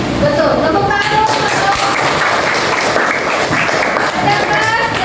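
Loud, close applause from a classroom group during a coding and computational thinking lesson, dense clapping mixed with chatter and voices over the whole stretch.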